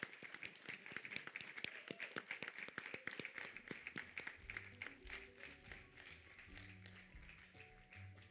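Sparse, distinct claps from an audience at a report launch event, faint and somewhat distant, thinning out as quiet murmuring and room noise rise toward the end.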